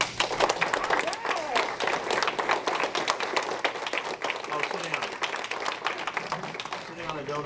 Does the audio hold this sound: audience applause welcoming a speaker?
yes